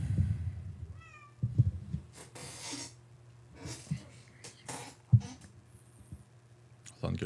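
A cat meows indoors, a short call and a few softer mewing and snorting sounds, close to the listener. A person talks quietly now and then.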